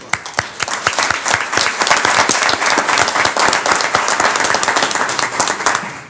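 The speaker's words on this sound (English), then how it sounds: "So give them a big round of applause" An audience at a school board meeting gives a big round of applause for the San Benito High School Flamenco Group, a steady, loud burst of many hands clapping that holds for several seconds with distinct individual claps throughout.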